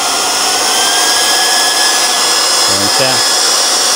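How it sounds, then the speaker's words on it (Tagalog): A homemade 12V blower powered by a 12V power bank whirs with a loud, steady airy drone and a high motor whine throughout, while a voice speaks briefly near the end. "paplug mo dito sa plug dito sa blower. Tapos i-on mo yon. Tapos on mo yung controller."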